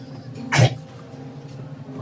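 A single short sneeze bursts out sharply amid a quiet room tone, close and fairly loud, then fades back to a low background hum.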